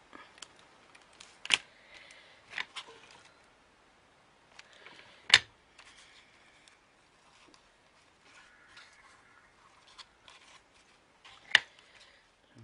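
Scissors trim the edge of a pleated fabric fan in a few scattered, sharp snips among soft rustling and handling noises, close and fairly quiet with no talking.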